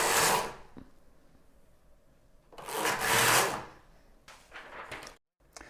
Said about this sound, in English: I'm going to knit first 2 rows in the contrasting color